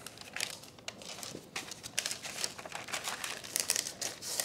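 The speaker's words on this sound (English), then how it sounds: "Then I want to line the dish with baking parchment." Baking parchment crinkles and crackles as it is pressed into an 8 by 8 inch square baking dish, a close series of irregular papery rustles and crisp crackling bursts.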